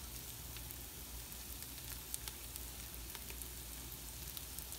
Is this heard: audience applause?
no